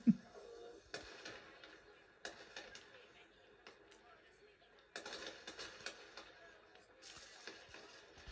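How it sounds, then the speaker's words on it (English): New Year fireworks over the Burj Khalifa, a series of distant booms and crackling bursts at irregular intervals, with voices and crowd noise mixed in. "Beautiful Burj Khalifa and beautiful shelling out there on the other side, fireworks"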